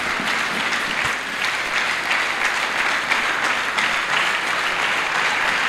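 A church congregation applauds steadily and loudly at a Sunday service, a continuous wash of clapping with no break and no talk over it.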